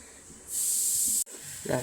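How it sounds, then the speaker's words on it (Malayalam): Tea comes to a boil in a pot on a kitchen stove, giving a steady, close hiss that swells after a moment of quiet, breaks off briefly, then carries on with no talking. "ചായ തിളച്ച് വരുന്നുണ്ട്"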